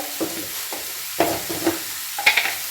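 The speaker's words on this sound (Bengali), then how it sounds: "সুন্দর করে ভাজা ভাজা করে নেব একদম।" Cauliflower filling for gobi paratha frying in a pan, stirred with a few scraping strokes over a soft, steady sizzle, close and fairly quiet.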